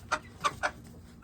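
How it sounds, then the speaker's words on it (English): A rooster clucks three short, close calls in quick succession outdoors while being caught, each one sharp and distinct against a quiet background. "We have caught the chicken."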